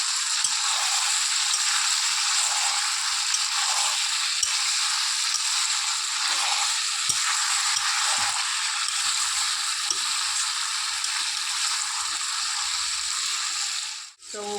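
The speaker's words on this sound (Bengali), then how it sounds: "এখন হচ্ছে এটাকে নেড়ে চেড়ে নিচ্ছি ভালো করে।" Chicken kosha cooked with home-ground spices is stirred in a pan, a steady loud sizzle running throughout with soft scrapes and knocks of the spatula beneath, cutting off abruptly at the end.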